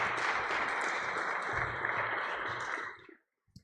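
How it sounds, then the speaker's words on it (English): Audience applause for two bail-reform advocates at a community panel event, a dense steady wash of clapping that holds for about three seconds and then quickly dies away into silence. "Give them both a round of applause."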